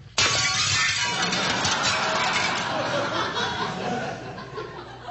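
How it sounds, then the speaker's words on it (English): A football smashes through glass French windows with a sudden loud crash at the start, followed by several seconds of scattering, tinkling shards and debris that slowly die away. "This football, which has just come crashing through the"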